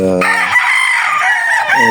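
A rooster crows loudly in one long, strained call, close to the microphone, with a brief lead-in and tail.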